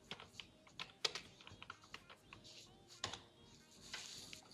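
Quiet, uneven typing on a computer keyboard as a terminal command is entered, with scattered soft key clicks and a few sharper taps over a low background hum.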